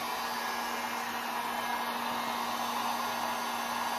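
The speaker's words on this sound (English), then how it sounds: "So I'm just going to hit it with a dryer" A hair dryer blows steadily and loudly throughout, a constant whooshing roar with a motor hum underneath and no other sounds.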